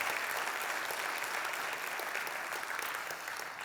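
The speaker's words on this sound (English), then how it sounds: "let's give them a huge round of applause for being here" Loud, dense applause from a crowd at a State of the City address, steady clapping that fills the room for a few seconds.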